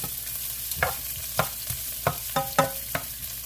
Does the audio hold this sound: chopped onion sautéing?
yes